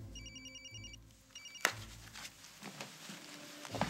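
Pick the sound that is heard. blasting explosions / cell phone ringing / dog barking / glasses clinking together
cell phone ringing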